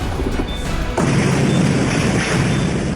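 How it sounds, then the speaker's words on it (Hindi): Tesla Cybertruck explosion outside the Trump hotel in Las Vegas, heard as a sudden heavy boom and crash that cuts in partway through, followed by a loud, rumbling wash of noise that keeps going to the end. "जहां एक साइबर ट्रक में जोरदार धमाका हुआ"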